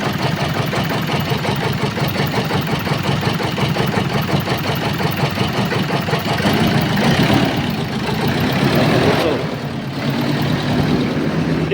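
Repaired car engine idling steadily and close, a dense continuous rumble with a hammer-like knock, running alone throughout with a slight dip near the end.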